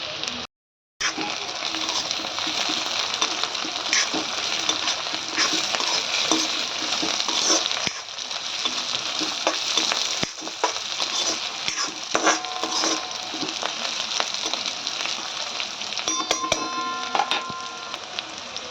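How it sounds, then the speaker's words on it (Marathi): Onion, grated coconut and four or five red chillies being stir-fried for a prawn curry masala, a continuous moderate sizzle with intermittent scraping and light clicks of a spatula, close and without talk. "तर हे सर्व आता चांगलं परतून घेऊया"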